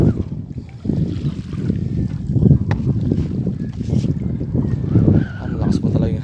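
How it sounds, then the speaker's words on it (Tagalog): Strong wind buffets the microphone beside a fishpond, a steady low roaring rumble with gusty swells and splashy texture throughout. "Ang lakas po talaga yung hangin."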